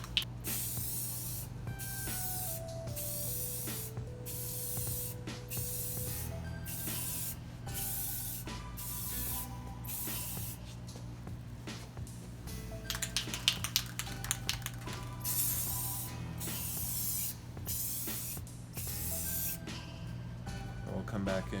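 An aerosol can sprays black paint onto an LS6 intake manifold and valve covers in a series of short hissing bursts separated by pauses, close by, over a faint tonal background.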